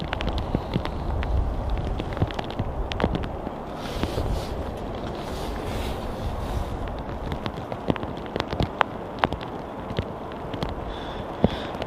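Steady rain falls outdoors at Manchester Airport, a continuous broadband wash with wind and scattered sharper drips and patters throughout, fairly close and loud with no talk.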